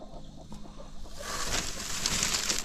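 Rhode Island chickens clucking softly and close, a few low calls followed by a louder hiss of rustling background noise.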